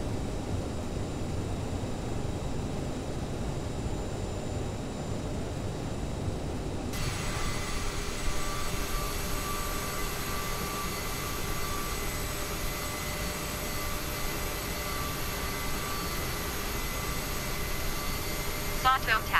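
Jet engines of a CRJ700 spooling up for a nighttime takeoff in Microsoft Flight Simulator 2020, a steady broad roar that builds after a few seconds and holds, with a faint voice underneath.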